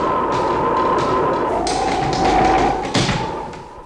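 A door slammed shut as a dark dust storm approaches in a radio play gives a dull thud near the end, over a steady roar of gusting wind and a faint whistle.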